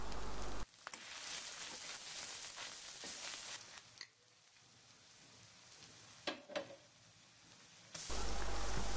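Ginger paste, red chili powder and turmeric powder stirred in a hot pan while cooking a mustard-paste pabda fish dish, giving a steady soft sizzle with scraping strokes, close and fairly quiet, with no talking.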